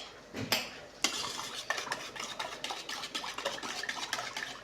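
A mixture of milk, water and salt is stirred in a bowl, with quiet, rhythmic scraping and clinking strokes of a utensil repeating close by.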